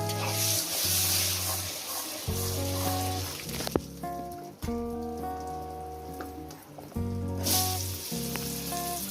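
Potatoes hit hot oil seasoned with salt and turmeric, raising a steady, loud sizzle and crackle that runs through the whole stretch alone, with background music tones layered over it.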